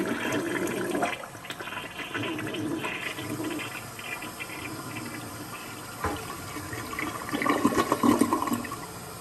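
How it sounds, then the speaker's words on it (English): A Kohler toilet in a Hilton Atlanta Airport hotel bathroom flushes nearby, a loud rushing gush followed by steady refilling water and a renewed surge toward the end. "This is your commode right here. It's a Kohler. I'll flush for you just in case."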